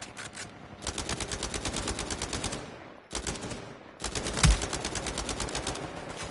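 Rapid automatic gunfire crackles through an Uncharted 4 multiplayer match, in dense rattling bursts with a short pause in the middle and a louder sharp shot near the end.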